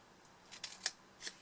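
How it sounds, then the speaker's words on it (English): Scissors cut a cardboard tray, several crisp, close snips spaced irregularly, the sharpest in the middle, quiet and alone. "we're going to cut down them both."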